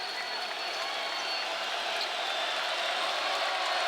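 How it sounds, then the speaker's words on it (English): Steady, dense roar of a basketball arena crowd at Miami in Coral Gables during a college game, a continuous wash of voices and noise at moderate level with no clear breaks. "The crowd up here in Miami at Coral Gables"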